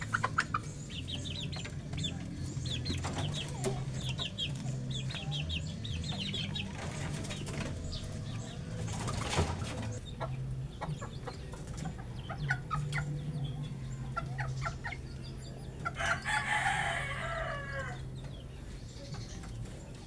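A young rooster clucks among other farm chickens, with scattered wing flapping and clucking over a steady background hum. There is a brief burst of crowing-like calls near the end.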